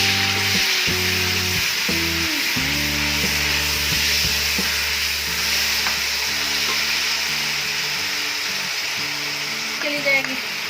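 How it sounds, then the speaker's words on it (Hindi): Onion and garlic fry in oil with tomatoes added for kadhi pakora, giving a steady, close sizzle that runs throughout beneath a low tonal layer of sustained hum-like notes. "इसको 1-2 मिनट के लिए हम फ्राई करेंगे ताकि इसका जो कच्चापन है वो खत्म हो जाए"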